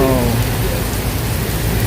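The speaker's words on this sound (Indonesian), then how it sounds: "Hujannya deras banget." Heavy rain over Kali Baru in Tambun, Bekasi, drumming continuously in a broad, even hiss, loud and close, with a faint low rumble beneath.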